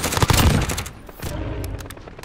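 Rapid gunfire from Call of Duty Warzone, a loud burst of shots in the first half second followed by fainter, spaced shots and echoes.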